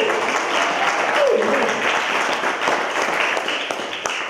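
Church congregation claps during a sermon, a full steady round of hand clapping with voices calling out underneath, gradually tapering toward the end.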